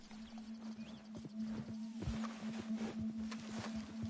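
Video-game horse hooves clip-clopping in a steady rhythm under a constant low hum, moderately quiet, with occasional sharper thuds.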